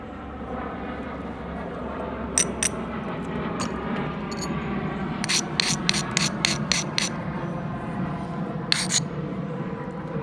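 A coarse abrader rubs along the edge of a flint biface during knapping, giving soft gritty scraping under a steady low hum, with a few short bright raspy strokes clustered near the middle and end.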